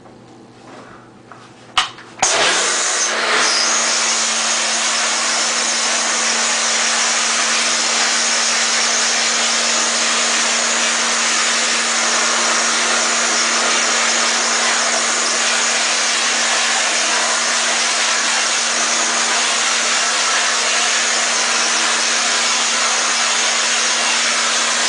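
Pressure washer spraying a screen to clean it, starting abruptly after a brief clunk and then hissing loudly and continuously with an underlying motor hum.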